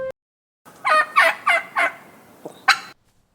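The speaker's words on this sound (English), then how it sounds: "The turkey gobbles in the yard." A turkey gobbles close by in a yard, a rapid series of four warbling bursts followed by a couple of shorter sharp calls, with quiet in between.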